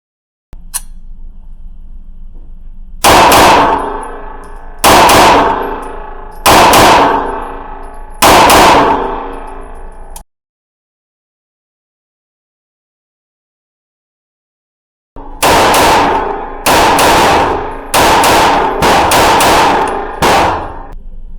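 A 1911 pistol assembled from spare parts fires close by, four single loud shots spaced about two seconds apart, then a pause and a quicker string of four more shots.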